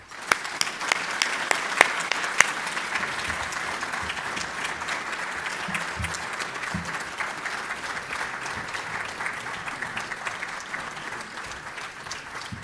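A conference luncheon audience applauds steadily for about twelve seconds to welcome speaker Paul Clement, a broad, even clapping crowd with a few sharper claps near the start.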